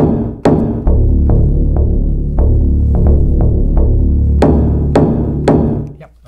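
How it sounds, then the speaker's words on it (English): Bass strings struck with a mallet produce a run of deep, resonant thuds and booming tones, some sharp attacks ringing out over a sustained low drone, close and fairly loud with no voices. "It's just a bunch of thing using the mallet playing sounds on the bass."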